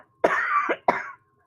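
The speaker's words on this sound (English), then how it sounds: "pardon me, I have to cough" A single adult cough, close and fairly loud, a long harsh burst followed by a shorter second hack, with no talking around it.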